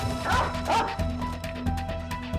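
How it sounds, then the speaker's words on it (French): A trained police dog barks in a few sharp, close bursts over a low background rumble and scattered knocks, with faint voices behind. "Avec des chiens policiers dressés pour dénicher l'argent des dealers"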